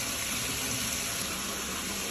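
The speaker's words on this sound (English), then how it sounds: "I'm running the water again to kind of dilute it before adding the ammonia" Tap water pours into a bath to dilute an ammonia spiritual bath mixture, a constant, close, broadband gushing rush with no pauses and no voices.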